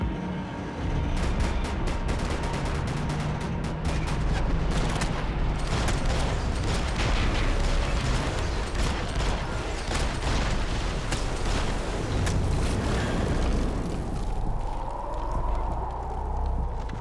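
Rapid sustained gunfire in the Max Payne 3 video game, dense overlapping shots and clattering impacts running continuously for many seconds at close range, easing near the end.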